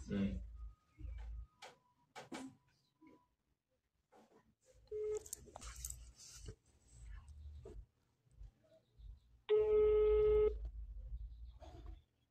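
A phone tone sounds for about a second near the end, following button clicks, handling noise and brief bits of talk.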